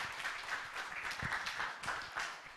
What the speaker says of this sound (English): A clap for the Chair.